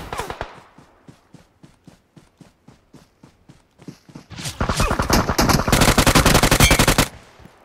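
Gunfire in the battle royale game BGMI: a steady run of single sharp shots, then a dense, loud burst of rapid automatic fire near the end.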